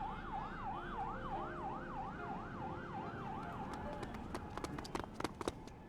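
An ambulance siren in the video game Love and Deepspace wails in a rapid, regular up-and-down pattern at moderate distance, then gives way to scattered sharp clicks and knocks.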